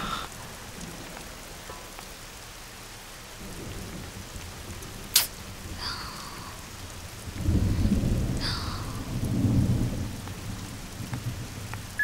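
Steady rain pours throughout a thunderstorm, a dense continuous hiss with a sharp crack and rolling rumbles of thunder building midway, no voices.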